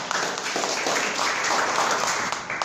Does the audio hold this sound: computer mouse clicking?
no